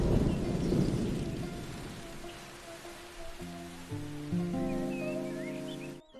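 Heavy rain with thunder, a loud rumbling wash of rainfall that gradually thins out while sustained tonal music notes come in over the later part of the clip; no one speaks.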